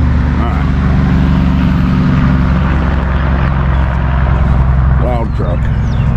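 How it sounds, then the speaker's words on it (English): Outdoors on a rural property, a truck passes on a nearby road as a loud, steady low rumble that holds throughout, with a voice heard over it. "Truck."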